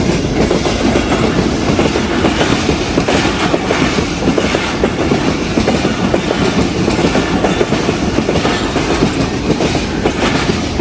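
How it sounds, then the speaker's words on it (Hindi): A train passes close by, loud and sustained, its wheels clattering in a steady clickety-clack rhythm over the rails for the whole stretch. "ये तो अच्छी है ये ट्रेन जो आ रही है।"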